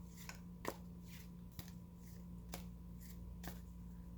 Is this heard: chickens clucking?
no